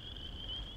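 A secretive North American frog calls with a steady, continuous high-pitched trill held without a break, moderately close and alone with no voices.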